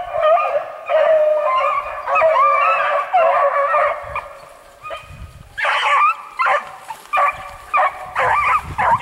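Several hunting dogs bark and bay in overlapping, drawn-out howls on a hare hunt, loud and close, with bursts of yelping toward the end.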